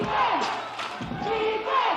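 A crowd at a Manawatū Jets versus Taranaki Airs basketball game reacts to a three-pointer with a brief, broad swell of noise, loud and continuous through the two seconds.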